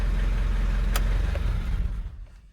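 Mitsubishi Pajero engine idling roughly in limp mode, then shut off; a steady close engine drone fades and thins out toward the end as the motor winds down, no talk over it.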